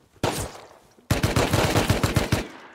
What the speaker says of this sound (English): There's gunshots to the right.